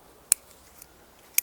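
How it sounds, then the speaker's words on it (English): Two sharp, close snips of hand scissors pruning a beech hedge, about a second apart, with a fainter click between them, set against quiet surroundings. "Just with my scissors."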